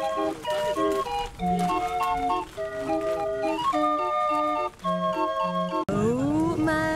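Bright, tinkling melodic music plays continuously at a party near the Geierlay suspension bridge in Germany, fairly loud and steady with a few brief dips.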